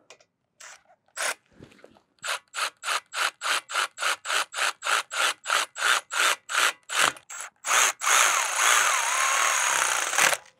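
Power tool spinning in brake bolts on a 2012-2015 VW Passat TDI, heard as a quick train of about twenty rhythmic ratcheting bursts that ends in a longer continuous whir, loud and close.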